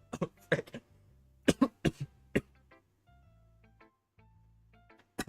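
Several sharp, forceful coughs and throat clearing from a person sitting close, arriving in clusters with short pauses between them over a faint, steady background hum.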